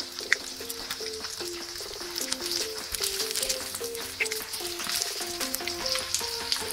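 Cubes of paneer frying in hot oil for Paneer Manchurian, giving a dense continuous crackling sizzle at close range, with a faint tonal hum running underneath and no talk.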